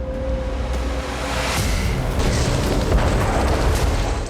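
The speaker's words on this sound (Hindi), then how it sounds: "धू-धू कर जलता ये रूसी सैन्य वाहन है, जिस पर यूक्रेन ने आर्टिलरी से हमला किया।" An artillery strike hits a burning Russian military vehicle at night, producing a loud, sustained rumbling blast that swells and roars without pause, with no talking.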